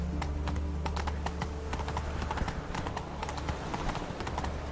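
Horse hooves clip-clop at a steady trotting rhythm in The Witcher 3, close and continuous under a low ambient game score, with no talking.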